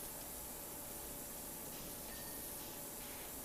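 Pressure washer spraying steadily in the game PowerWash Simulator, a loud, broad continuous hiss of water jetting against a surface with no breaks and no talk.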